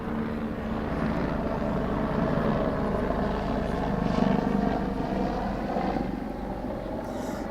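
A small propeller plane of the flying-club kind drones overhead, a steady, fairly loud buzzing engine hum that swells slightly midway and carries on without talk.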